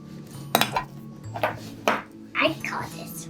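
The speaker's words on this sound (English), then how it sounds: "Now I'm gonna put a cookie on the pan" Cookie dough going onto a metal baking pan in a home kitchen: a few sharp clanks and clatters spaced about half a second apart, close by, with faint background sounds and no clear talking.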